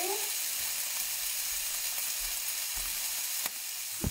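Chickpeas from a rinsed can fry in hot oil in a pan, giving a steady, close sizzle that runs unbroken throughout, with a few faint clicks and a brief knock near the end.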